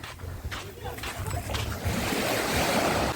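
Sea surf along the Odesa shore on a stormy winter day, a steady broad wash of waves rolling in close and building louder toward the end, with wind noise and faint talk mixed in.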